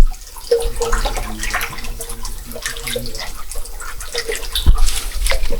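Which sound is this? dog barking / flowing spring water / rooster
flowing spring water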